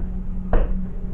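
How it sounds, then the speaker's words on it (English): A kitchen drawer shifts with a single sharp knock or bump partway through, followed by a brief rattling decay against a quiet room hum. "Wait, it's moving the drawer."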